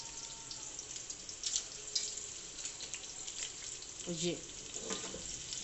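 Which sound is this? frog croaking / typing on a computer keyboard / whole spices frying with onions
whole spices frying with onions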